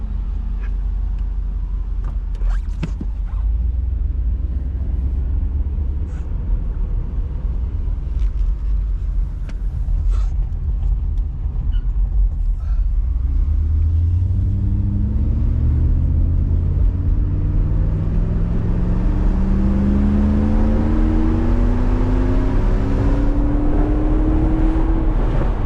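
Mercedes 500SL with the M119 V8 running at an elevated idle, a steady low rumble that swells into a rising engine drone in the later half, heard without speech.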